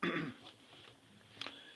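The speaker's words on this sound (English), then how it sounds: "I have flu, so I'm going to be coughing." A person with flu gives one sharp, close cough at the start, followed by quiet room tone and a faint, brief rasp near the end.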